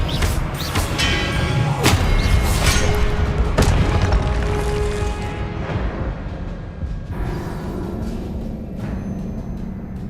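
Repeated booming Confringo spell explosions from the video game Hogwarts Legacy, dense and heavy with thuds and crashes layered over continuous rumbling battle noise, no talk audible.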